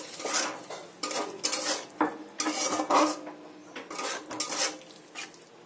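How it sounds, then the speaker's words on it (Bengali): Biryani spice masala being stir-fried in a pan with a little water, a spatula scraping and clattering against the metal in steady repeated strokes, close and continuous with no voices. "এবার সব মশলা ভালো করে কষিয়ে নিতে হবে।"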